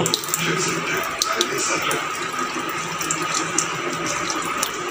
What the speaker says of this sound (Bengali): প্রথমে আমরা পুরো পানিটা ফালিয়ে দিব